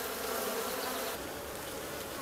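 Honeybees gather spilled honey near their hive, a steady, close buzz of many wings humming continuously and fairly softly, with no voices.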